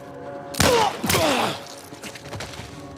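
Gunfire in Red Dead Redemption 2, set in the Old West: two loud, close shots about half a second apart with ringing tails, followed by fainter scattered reports.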